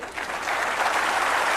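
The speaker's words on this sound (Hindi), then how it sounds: "एक बार हमारे साथ ताली बजाइए।" A school audience at a tribal affairs event claps together in dense, steady applause that swells slightly and holds throughout, close and loud with no voices over it.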